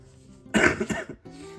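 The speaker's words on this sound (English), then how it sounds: "apologies for the cough" A single harsh cough bursts out close by, a short rough blast with a brief follow-up hack, then quiet room tone.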